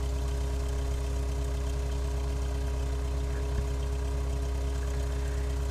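A Cessna light aircraft's engine runs at a steady drone on the ground after landing with flaps retracted, an even, unchanging hum with a single faint click partway through.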